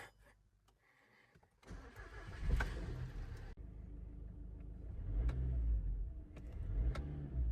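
A high-mileage Skoda Octavia engine cranks and catches after a quiet moment, then settles into a rumbling run with a couple of revs rising, echoing in an enclosed space.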